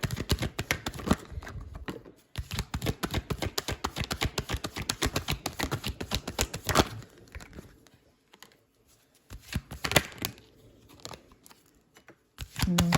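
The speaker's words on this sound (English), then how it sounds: "I'm just going to pull all my cards that I need for the specific spread that I do." Tarot cards are pulled and shuffled from a deck in quick bursts of crisp, papery clicks and riffles, close up, with a few short pauses between flurries and no speech.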